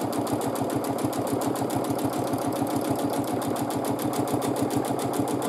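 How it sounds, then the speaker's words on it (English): A sewing machine running fast while stitching, its needle chattering in a rapid, even rhythm that holds steady and close throughout. "Then I have to accelerate the machine to have smaller stitches"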